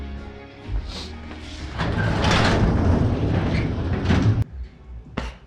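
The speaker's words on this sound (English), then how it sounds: "Let's open the door back up so we can see." A door is pushed open indoors during a home repair session, a rumbling slide lasting a few seconds followed by a sharp knock or thud as it stops, with a smaller clunk after.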